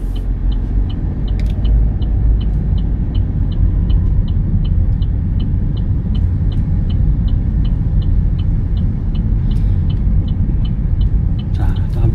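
A car pulls away on a road driving-test course in Busan, with a steady low engine rumble and road noise throughout and a regular ticking indicator clicking near the cab while an instructor talks.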